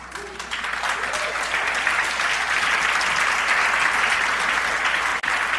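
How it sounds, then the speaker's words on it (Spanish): A church congregation breaks into loud, sustained applause during an Easter sermon, a dense, steady wall of clapping that fills the room with a faint voice underneath. "los aplausos al Señor"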